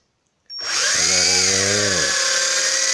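A cheap JJRC H28 drone spins up its propellers into a loud, close, high-pitched whine that dips and rises as the motors change speed, then holds steady.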